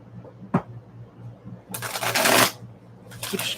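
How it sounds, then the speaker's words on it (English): Tarot cards are shuffled nearby in quick riffling bursts, one sharp snap followed by two longer flurries of card noise, with no talk over them. "I keep shuffling the cards."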